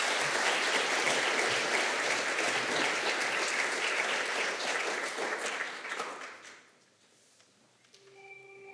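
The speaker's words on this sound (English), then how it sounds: "Let's give them a round of applause to say thank you." An audience at a school prize giving applauds student leaders with sustained, dense clapping for several seconds before it fades out, leaving a quiet room.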